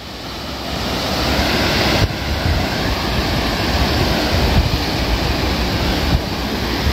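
Ocean surf rolls in at Alibaug beach at night, a loud, continuous roar of breaking waves mixed with wind buffeting the microphone, with no voices.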